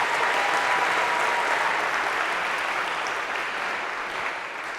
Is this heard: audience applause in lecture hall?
yes